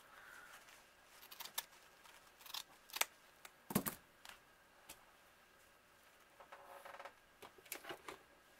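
Scissors snip ribbon for the tail of a Dollar Tree wreath in a series of faint, close, crisp cuts spread irregularly over several seconds, with a slightly louder cluster in the middle and no speech.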